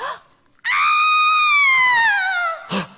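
A performer voice-acts a long, loud, sustained scream set in a museum, rising sharply and then slowly falling in pitch, followed by a short gasp.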